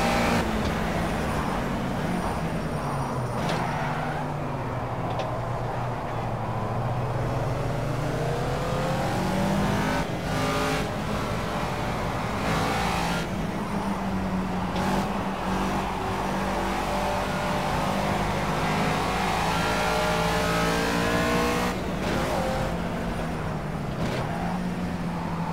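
In Project CARS, a race car engine roars steadily and close, rising and falling in pitch as it revs and shifts through gears, with short dips on each change and no voices.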